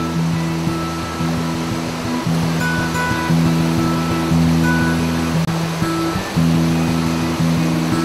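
River water rushes steadily in a remote, unexplored Andean valley of the Vilcabamba region, a continuous loud broadband flow with a low steady hum underneath, no voices.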